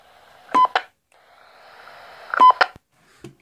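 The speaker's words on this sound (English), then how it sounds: "So it's a nice little rounded off beep there." Short electronic beep tones from a President George FM radio transceiver, two quick pairs of bleeps separated by a faint hiss, followed by a soft click.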